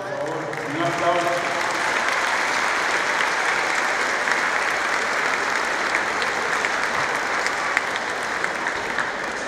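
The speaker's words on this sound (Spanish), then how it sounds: "Un aplauso, por favor, un aplauso." Sustained applause from a large audience at the opening ceremony of Colombia's National Cooperative Week 2024, a dense steady roar of clapping lasting throughout, with a voice speaking briefly over it at the start.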